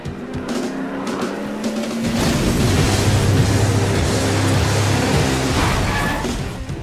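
Car speeding off in a Jak and Daxter video game cutscene: an engine revs up abruptly and roars away loudly with a rushing, skidding burst, the sound swelling then tapering off, no speech over it.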